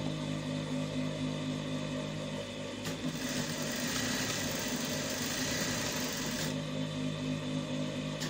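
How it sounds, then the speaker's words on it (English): A sewing machine stitches the edge of a kimono jacket, a continuous close motor hum with a rougher, louder burst of stitching in the middle and no voices. "You're sewing the edge straight down."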